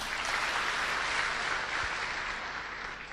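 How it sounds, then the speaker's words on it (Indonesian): An audience applauds at a business seminar, with steady, dense clapping that holds for several seconds before easing slightly, moderately loud and without talk. "Ya, Ibu Mimi, beri aplaus buat beliau."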